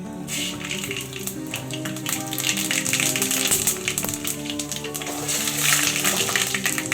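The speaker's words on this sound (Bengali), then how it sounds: "তেল গরম হয়ে গেছে, এবার আমি ফোড়ন দিচ্ছি। তেজপাতা, গোটা শুকনো লঙ্কা, সর্ষে, মেথি।" Bay leaf, whole dried chili, mustard and fenugreek hit hot oil with a dense, steady sizzle and crackle of popping spatters that swells slightly louder toward the end.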